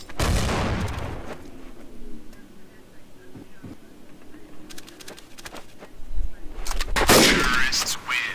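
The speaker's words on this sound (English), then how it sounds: "Look out, grenade!" Grenade explosion and rapid gunfire in Counter-Strike: Source, Dust and Train maps: a loud blast opens, quieter scattered shots follow, then a second heavy burst of fire and explosion rises near the end.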